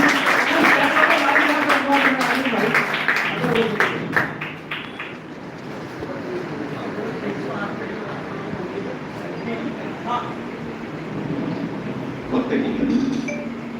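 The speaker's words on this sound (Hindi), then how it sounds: "आप सबसे निवेदन है जोरदार तालियों से स्वागत करें" Audience applause welcoming a poet at a kavi sammelan poetry gathering in Kalyan, clapping mixed with clinks and taps, loud at first and then thinning into a quieter murmur with scattered claps, voices speaking over parts of it.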